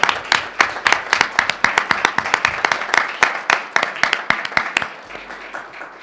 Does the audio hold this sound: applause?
yes